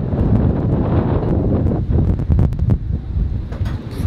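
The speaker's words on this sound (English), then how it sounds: "Pretty windy." Strong wind of about 45 knots buffets the microphone at an anchorage in loud, rumbling gusts, with some rattling and flapping noises mixed in close by.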